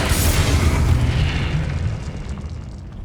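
Magic spell blasts in Hogwarts Legacy, fired as Confringo and Repulsor curses, bursting in a loud close explosion with a deep rumbling boom that rolls on and slowly fades over a few seconds.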